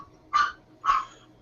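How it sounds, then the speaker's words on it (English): A dog barks twice in a quiet room, two short, clear, evenly spaced barks at moderate loudness with no talk over them. "Oh, dog."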